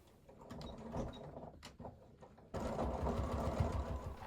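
A sewing machine runs a visible top stitch along a pleated trouser waistband, its motor humming steadily with a rapid needle chatter, briefly easing off before surging louder and faster for the second half.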